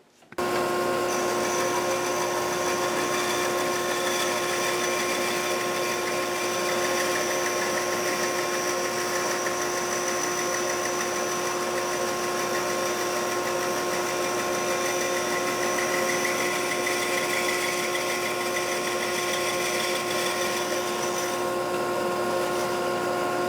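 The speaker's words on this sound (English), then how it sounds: "we're ready to cut off this thin section of wood" A bandsaw steadily cutting a thin slice from a squared wooden board, with a continuous loud motor whine and blade hum that holds steady for over twenty seconds before stopping.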